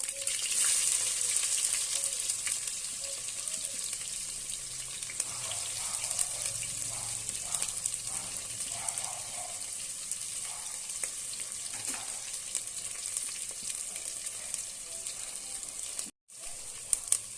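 Oil sizzles steadily in a pan as tempering seeds and then onions are added, a constant crackling hiss with occasional bursts of spattering as food hits the heat, then a brief cut near the end.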